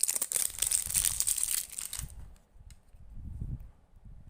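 Close, crisp crinkling and tearing of packaging as a Thai Buddhist powder amulet is unwrapped, giving way after two seconds to soft, muffled handling thumps, with no talk.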